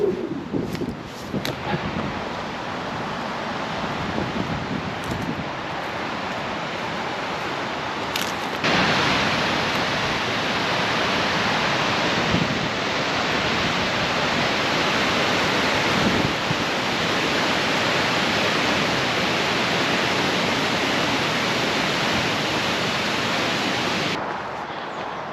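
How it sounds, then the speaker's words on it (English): Water rushes over a weir on the River Douglas between Parbold and Wigan, a loud continuous broadband roar that stays steady throughout with slight swells. "if you can hear that whoosh sound, that is the gaffer's weir"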